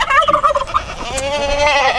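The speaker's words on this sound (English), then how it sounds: "And there's our geese." Loud, honking bird calls repeat in quick bursts, then a longer wavering cry, close by with no talking.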